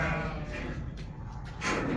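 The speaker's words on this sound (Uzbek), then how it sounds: "qo'ylar." Sheep bleating at a livestock farm, several animals calling over a dense, steady wash of flock and yard noise, with a louder burst near the end.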